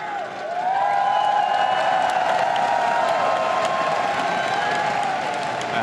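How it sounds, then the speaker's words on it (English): A large arena crowd at a League of Legends esports semifinal, SK Telecom T1 versus Fnatic at MSI 2015, cheers and applauds loudly and steadily, a dense wash of clapping and whoops that swells early and holds. "The crowd in there going crazy."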